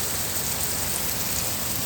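Steady rain falls on a Monday onto trees, including an orange tree, making an even, continuous hiss of drops with no voices and no breaks.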